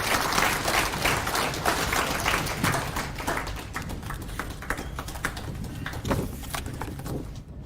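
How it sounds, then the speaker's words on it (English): Audience at a Kenyan pension scheme annual general meeting applauding the chief guest: dense, sustained clapping from a large crowd, fairly loud and steady throughout with no break. "may we continue to appreciate and applaud our chief guest today"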